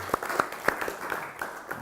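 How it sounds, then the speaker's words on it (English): A conference audience gives a quick, thin round of applause, a few distinct claps sounding faint and sparse in a large room. "Can we have a quick round of applause for the team?"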